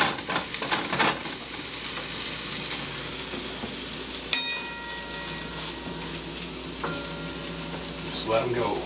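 Mixed peppers cooking down in a pan give off a continuous close sizzle, with stirring scrapes and a few utensil clinks along the way and no speech.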